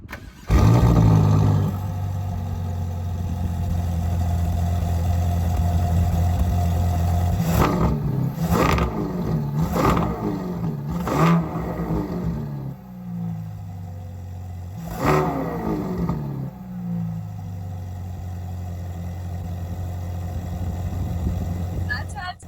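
Ferrari GTC4 Lusso twin-turbo engine, rear-wheel drive with a 7-speed dual-clutch gearbox, idling and then blipped in several sharp revs, one after another with gurgling drops between them, loud and close, with a later rev that rises higher.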